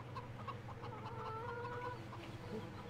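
Chickens in the Farming Simulator 17 video game cluck in short, busy bursts, fairly close and steady over a low droning hum, with no talk.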